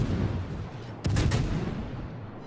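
Naval artillery booms in a warship video game, a sudden heavy salvo at about one second that bursts loud and then rumbles away, following a quieter stretch of low battle noise.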